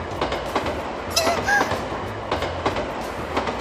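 Inside a train crossing a bridge, a steady close rumble carries repeated clickety-clack wheel knocks and a few brief high squeals.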